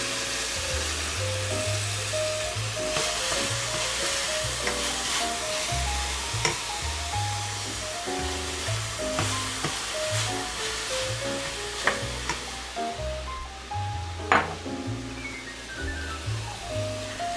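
Broccoli sautéing in a pan over medium heat, a continuous close sizzle with occasional spatula scrapes and clinks against the pan, steady throughout with no talking.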